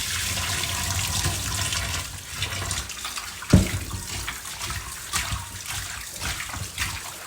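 Korramatta fish pieces washed by hand in running water, a steady loud gush of a tap with sloshing and one sharp knock partway through, close by and without talk.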